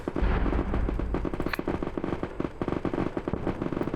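Frag grenade blasts and dense gunfire in the war game Frontline Logistics Isarian Warfare: steady rapid shots with a heavy low boom near the start, loud and continuous with no talking.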